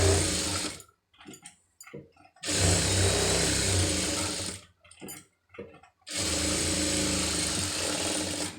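A sewing machine stitches cloth in three long bursts of steady motor whirring, broken by short pauses of softer handling clicks, fairly close and loud, with no talking.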